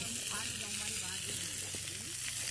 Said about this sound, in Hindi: जावेद भाई का समल फ्राई करने का तरीका देखें आप